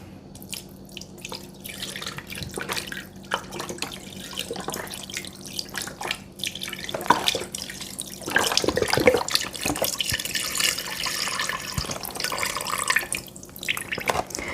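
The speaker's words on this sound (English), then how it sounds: "I'm going to add 4 cups or 32 ounces of chicken broth" Chicken broth poured into a soup pot holding chicken breasts, a long, irregular liquid splashing and dripping that swells louder partway through and continues at close range.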